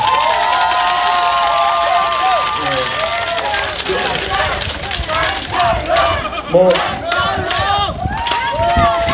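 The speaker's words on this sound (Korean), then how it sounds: "큰 박수 부탁드립니다" A crowd at an outdoor campaign rally in a market cheers, shouts and claps, with loud, uneven bursts of many voices that rise and fall, and some individual yells standing out.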